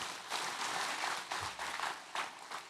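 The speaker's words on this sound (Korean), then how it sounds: "영광의 박수를 드리겠습니다" Congregation applauding during a Sunday church worship service, a broad wash of clapping that swells in several waves across the clip at moderate, somewhat distant level, with no speech over it.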